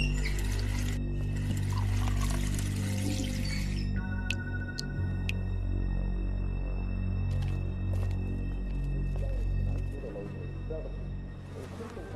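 Water pours steadily in a kitchen scene from the video game The Wolf Among Us, a continuous trickle set against a low ambient hum, with brief bright tones and a few clinks partway through.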